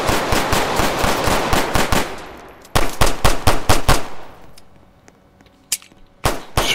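Gunfire at a gas station in a gang-war game cracks out in rapid bursts of sharp shots with ringing decay, a pause, another volley, then a few scattered single shots.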